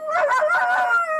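A pet dog named Jinx lets out a single sustained, wavering howl, close and fairly loud, with no talk over it.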